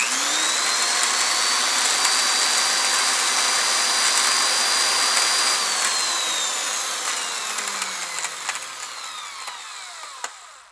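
A drill press plunges a Forstner bit into wood, giving a loud, steady high-pitched whine that holds for several seconds and then slowly winds down as the spindle coasts to a stop.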